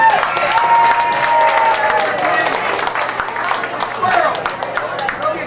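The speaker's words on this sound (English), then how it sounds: "Clap if you want him in the finals." Audience clapping and cheering at a festival singing contest in 2008, dense sustained applause from a crowd, loud and continuous for over five seconds with some voices mixed in.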